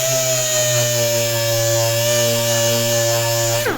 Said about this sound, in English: Or you could take your palm sander